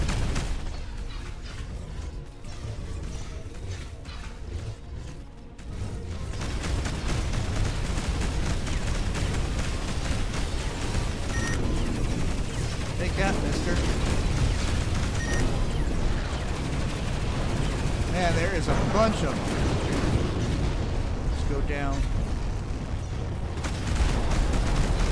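Space combat video game battle with dense spaceship gunfire and explosions, a steady loud barrage of blasts and booms that swells after the first few seconds and continues throughout.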